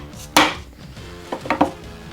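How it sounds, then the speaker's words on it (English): A Knafs Lander 1 knife chops down onto a metal bolt, one sharp loud strike followed by a few lighter taps and knocks, with no talking. "one more time on that bolt chop."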